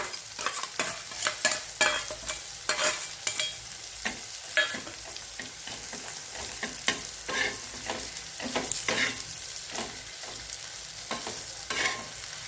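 Stuffed masala okra fries and sizzles in a pan while a spoon stirs it with repeated scraping strokes, loud and close, a steady hiss under the rhythmic stirring.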